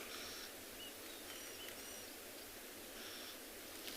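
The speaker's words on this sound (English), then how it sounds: "that's often a bird that's alarm calling." Faint, scattered bird alarm calls from dense bush on an afternoon safari in South Africa, a few short chirps sitting low in steady outdoor background hiss.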